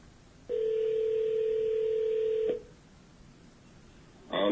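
A telephone call being placed again from a live broadcast studio gives one long, steady electronic tone lasting about two seconds, then drops to quiet line hiss before another brief sound starts at the very end.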